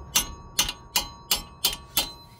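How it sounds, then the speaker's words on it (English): Hammer blows on the front wheel bearing of a 2006 Toyota RAV4: six sharp metallic whacks at a steady, even rhythm, close and loud, each with a brief ringing decay. "Just get a hammer and whack it right there,"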